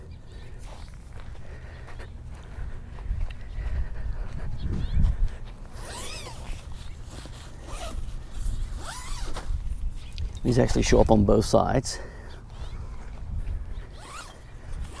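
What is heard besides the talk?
zipper on OneTigris mesh tent door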